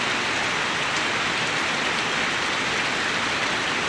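A downpour on its third straight day roars without letup, thick and close, the constant wash of water drowning out everything else.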